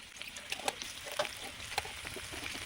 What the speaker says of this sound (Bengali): এবার কড়াই তেল দিয়ে পেঁয়াজটা ভেজে নেব